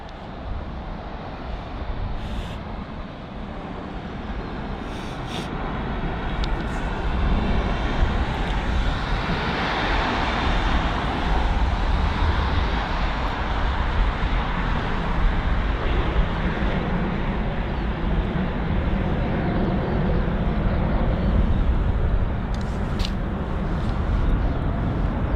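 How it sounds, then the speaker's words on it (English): A Swiss Airbus A320neo arriving from Zurich lands at London Heathrow, its engine roar swelling from a distant hum into a loud, sustained broadband rumble that holds steady as the jet passes close. "It's the Swiss A320 Neo. And this aircraft's arriving from Zurich."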